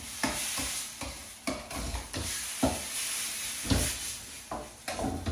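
Chicken bhuna frying with spices, tomato and onions in a pan, a constant sizzle broken by repeated stirring scrapes at an uneven rhythm, close and alone.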